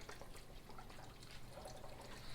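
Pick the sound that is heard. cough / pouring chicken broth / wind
pouring chicken broth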